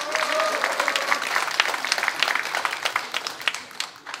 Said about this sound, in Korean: 힘찬 격려 박수로 맞아주십니다.